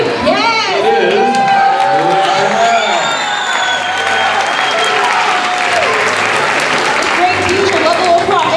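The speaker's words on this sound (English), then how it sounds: "Great teacher, level of applause" Children and adults at a school fun-fest applaud and cheer for a teacher, loud sustained clapping mixed with shouts and excited voices throughout.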